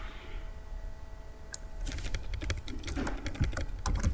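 Keyboard typing while entering text for a Photoshop ad poster design: a rapid, irregular run of light clicks, starting after a quiet pause and growing busier and a bit louder toward the end, with no voices.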